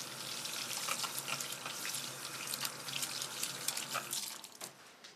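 Warm tap water runs steadily into a sink while hands are washed with soap, a soft hiss with scattered splashes and drips, faint and close with no voices.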